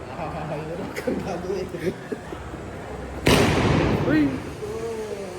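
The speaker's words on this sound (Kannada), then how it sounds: "ಬರ್ತದಂಗೆ ಪಟಾಕಿ ನೋಡಿ" Firecrackers set off at a wedding: a sudden loud bang midway, followed by a few seconds of crackling and popping, over a background of people talking.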